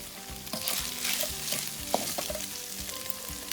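Garlic and Maggi bouillon fry in a pan with a dense, close hissing sizzle, a few sharper pops and light clinks of stirring. No voices.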